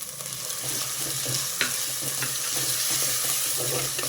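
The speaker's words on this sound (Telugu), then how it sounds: "ఇది కొంచెం వేగింది, పుదీనా వేస్తున్నా." Chopped mint leaves added to leafy greens already frying in a pan for a greens pulao, with a continuous close sizzle and intermittent stirring scrapes and clicks of a spoon against the pan.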